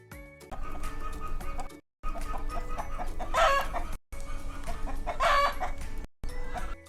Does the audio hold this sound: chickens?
yes